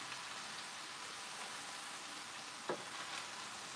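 Cabbage fries in avocado oil with a faint, steady sizzle and crackle, plus one brief stir or scrape near the end.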